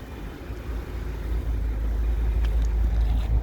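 A 2008 Audi S6 with a V10 engine runs at a steady idle, its deep low rumble close and continuous with no talking over it.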